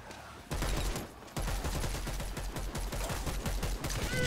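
Rapid machine-gun fire roars up suddenly in a Dead Island 2 zombie fight, after a quieter start. A short break follows, and then dense, loud sustained bursts continue close by to the end.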